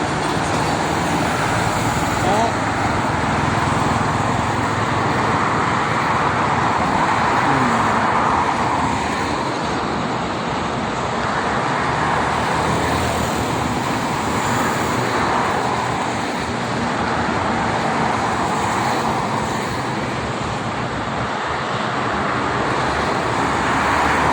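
Steady roar of Jakarta-Cikampek toll road traffic with heavy cargo trucks rumbling past in the morning, a continuous broadband wash of engines and tires with no voices.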